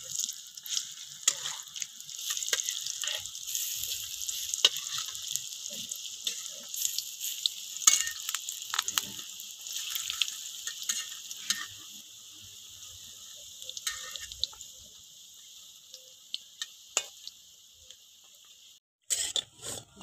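Fritters (bora) for a pumpkin and potato curry frying in hot oil, a steady bright sizzle with scattered clinks and scrapes as they are turned, fading quieter toward the end with no speech.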